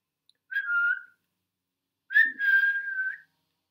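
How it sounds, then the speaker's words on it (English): Someone whistles behind a closed door, two clear melodic phrases, a short one and then a longer wavering one, with silence around them and no other sound. "he heard somebody whistling behind one of the closed doors"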